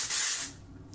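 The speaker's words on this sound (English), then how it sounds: "we're gonna use the Way texturizing spray" A texturizing hair spray lets out one close, loud hissing burst of about half a second that then tails off into quiet room tone, with no talking.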